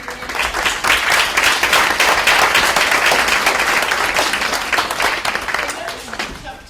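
Audience applause at a Gettysburg College student senate meeting, a full, close burst of many hands clapping that holds steady and then gradually tapers off.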